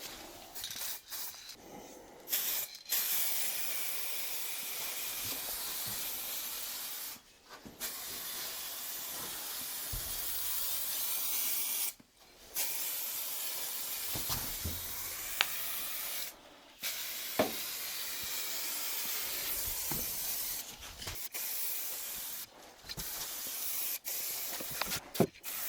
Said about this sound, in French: Il conseille une première pulvérisation à 50 cm et ensuite de se rapprocher doucement du support jusqu'à environ 30 cm.